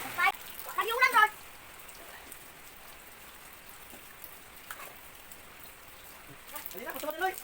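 Rain falls steadily in a rural province setting, a soft, even hiss of drops throughout, while children shout and chatter in bursts near the start and end.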